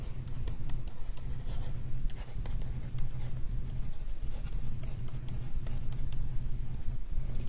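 Marker or chalk writing by hand on a board during a calculus lecture, with steady scratching strokes and taps in quick irregular bursts, close and fairly clear.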